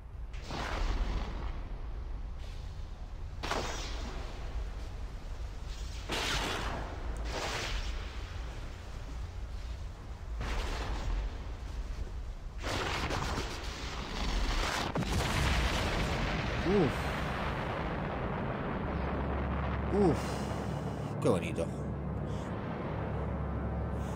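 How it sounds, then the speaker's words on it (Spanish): A nuclear explosion at the close of the 1998 video game Fallout 2, heard as a series of deep, rumbling booms and blasts that swell into a sustained roar, loud and continuous throughout. "termina el Fallout con una explosión nuclear"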